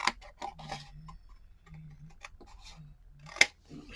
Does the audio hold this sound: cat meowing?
no